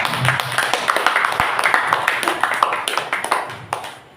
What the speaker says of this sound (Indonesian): tepuk tangan dulu untuk Bu Mariati